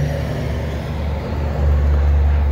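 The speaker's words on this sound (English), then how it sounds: "Sorry, noisy truck going by." A truck drives past close by with a heavy, low rumble that swells louder partway through, mixed with broadband road noise and no talking.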